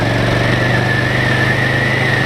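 A motorcycle engine held at high revs in fifth gear, a loud, steady droning roar with a constant pitch, close and unbroken.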